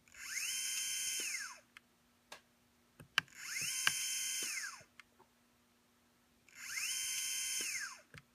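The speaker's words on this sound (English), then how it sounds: "Sounds kind of like a dentist drill, doesn't it?" An Iomega Clik! Rave MP3 disk player whirs in three shrill, drill-like bursts of about two seconds each, each rising and then falling in pitch, separated by quiet gaps with faint clicks.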